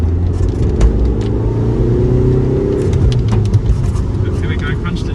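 2006 Volkswagen Polo 9N3 1.9 TDI diesel revved up hard, the engine note rising and holding loud and close, with a voice audible over it.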